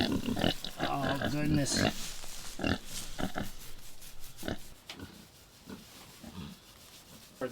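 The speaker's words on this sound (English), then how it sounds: "Oh, piggies." Farm pigs grunt and squeal close by in a cold-weather shelter, a busy run of loud overlapping grunts that thins out toward the end, with a person briefly talking.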